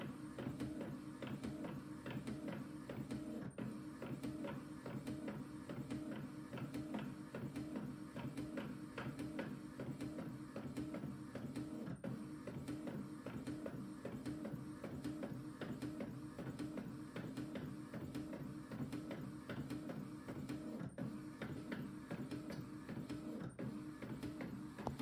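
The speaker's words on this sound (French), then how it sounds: "Donc c'est parti pour l'impression." An inkjet-style printer runs steadily while printing sheets of decorative stickers for party cups, a continuous mechanical whir with repeating clicks and carriage passes throughout, close and alone with no talking.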